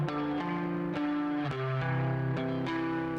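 Compressed electric guitar arpeggio with spring reverb, the picked notes sustaining and blurring into a washy, even-level tone that plays alone throughout.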